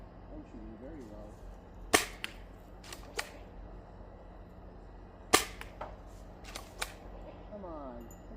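Gunshots ring out at an outdoor shooting range aimed at a target about 55 feet away, sharp cracks spaced a few seconds apart with two louder reports, while a voice talks quietly in between.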